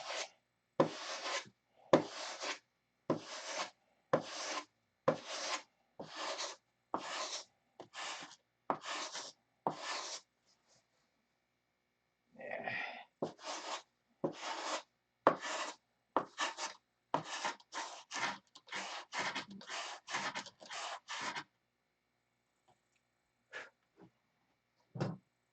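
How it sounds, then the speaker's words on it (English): Wood being hand-sanded after the arc was shaped and moved back, heard as repeated rhythmic rasping strokes in two bursts of about ten each, with a brief pause between, close and fairly quiet with no talk. "before I sand it with that"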